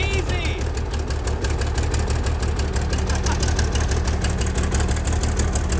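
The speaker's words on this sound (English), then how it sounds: "it's always these big Cummins that just fire right up almost instantly" An old Cummins diesel in an abandoned wheel loader, sitting unused for 18 years, fires up and settles into a loud, steady, rough idle with a rapid clattering pulse, close by and continuous.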